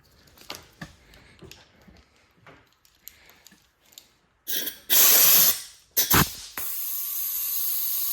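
Compressed air hisses from a cheap Amazon-brand Sungator swivel fitting on an air tool: two loud, close bursts of hiss, then a steady continuous leak hiss after quieter handling clicks.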